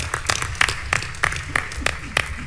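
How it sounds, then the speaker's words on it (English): Audience members at the National Action Network convention clap in a sparse, rhythmic burst, roughly every third of a second, fairly close, with faint voices underneath. "Y'all, we can clap for that"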